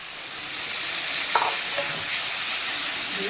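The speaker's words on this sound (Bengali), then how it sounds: "এটাকে ভালো করে এবার কষিয়ে নেব সামান্য জল দিয়ে দিলাম" Onion, garlic and ginger masala for a duck egg curry, tempered with cumin, bay leaf and dried chilli, sautés in a pan with a splash of water, giving a steady, close sizzle with a few light stirring clinks.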